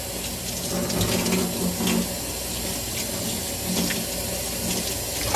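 Water runs steadily from a tap into a sink at a Subway restaurant, with a continuous splashing hiss and occasional clinks of washing a utensil, and no one speaking.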